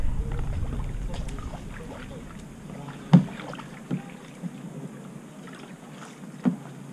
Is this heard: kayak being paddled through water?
yes